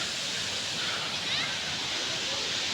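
The Sawdav waterfall in the Konkan countryside, a steady, broad rushing roar of falling water heard close and unchanging throughout.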